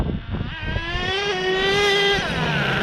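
HPI Savage XL nitro RC truck with a two-speed transmission, its small engine revving in a rising whine that climbs, drops and climbs again as the gears change, loud and close with no talking.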